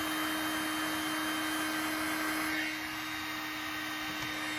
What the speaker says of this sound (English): we go back to the heat gun, and we'll heat it again, just to get it all kind of flowing again